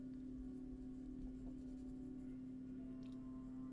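Colored pencil strokes scratch steadily across paper while sketching a farmer's face, a soft continuous scraping that stays close and quiet with no talking.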